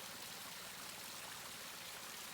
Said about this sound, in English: See how the water sharply changes in the channel slope, almost like a mini waterfall?